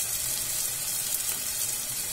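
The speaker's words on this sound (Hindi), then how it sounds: "थोड़ा भून लेंगे इसे" Onions and spices frying in oil in a pressure cooker for dal palak, a steady broadband sizzle with faint stirring, close and continuous, with no talking.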